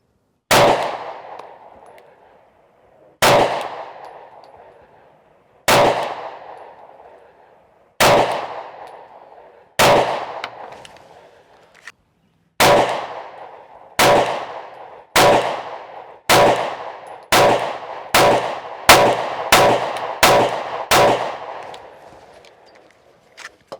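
Sig P365 pistol shots at an outdoor shooting range from 10 yards, with single sharp cracks at first spaced a few seconds apart, then a quicker run of evenly paced shots, each loud and close with a brief ringing tail.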